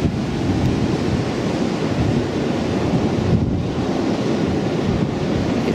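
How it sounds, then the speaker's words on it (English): Heavy surf and gusting wind buffet a beach during Hurricane Matthew, a loud, unbroken roar with the wind battering the microphone and no voices heard. "Oh, we're on the beach."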